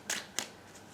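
Tarot cards from a gypsy tarot deck are shuffled off to the side in two quick, faint papery bursts, the second shorter, with quiet room tone between them and no talking.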